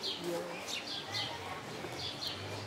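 An older green-winged macaw at a park mimics sounds, giving several short, bright chirping calls spaced irregularly over a murmuring background, with people talking nearby.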